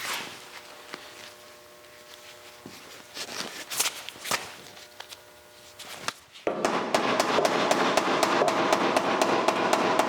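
Sharp metal hammer blows ring out against a 1956 Chrysler bumper being straightened, scattered strikes at first, then a dense, rapid run of loud close hits filling the final seconds.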